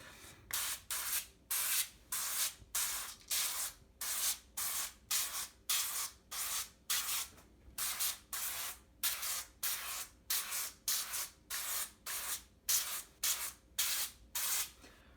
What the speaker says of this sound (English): We're going to take our can of olive oil spray